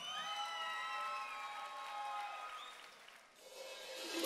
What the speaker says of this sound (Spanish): Un fuerte aplauso para Tinkus Cochabamba,